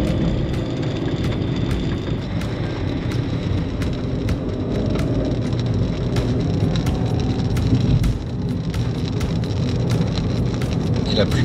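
Steady heavy rain from a supercell thunderstorm in Beaujolais, France, pours down with sharp clicks of drops striking close by, a constant loud wash from start to finish.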